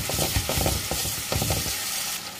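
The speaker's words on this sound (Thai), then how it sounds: "เวลาผัดก็ค่อยๆเกลี่ยนะคะอย่าผัดแรงนะเพราะเดี๋ยวปลาจะเละค่ะ" Tilapia fish and celery stir-fry in a hot pan, a dense steady sizzle with soft scraping strokes of gentle stirring, close and continuous with no voices.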